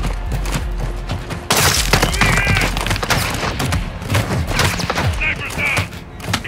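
Call of Duty gunfire crackles as a rapid fusillade of loud, close shots and thumps. Bursts and single reports overlap throughout, with some game voices mixed in under the shooting.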